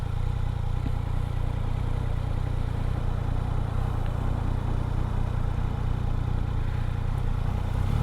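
Yamaha XSR 900 motorcycle with a triple-cylinder engine running at a steady idle, a constant low rumble with mechanical clatter, close and continuous with no talk over it.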